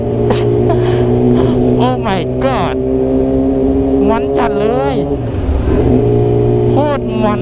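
A car engine revs hard while driving fast, a steady loud drone with rising and falling pitch sweeps as the throttle changes, and a voice talks intermittently over it.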